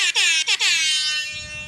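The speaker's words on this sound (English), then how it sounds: "Yes, you deserve an air horn." A loud, brassy air horn blasts three times in quick succession, the last blast held long before fading out.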